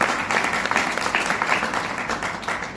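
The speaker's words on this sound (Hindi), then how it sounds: "इसके लिए एक बार जोरदार तालियां" An audience at a Hindi poetry gathering bursts into loud, continuous applause for the poets, a thick, even wash of clapping that holds steady throughout without voices over it.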